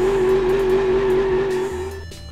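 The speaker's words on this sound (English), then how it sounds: "Do a quick burnout" A racing game car, a V8 or V10 Hopper drift build, spins its tires in a burnout: a loud sustained engine drone with a steady high tire squeal that cuts off near the end, leaving a lower idle rumble.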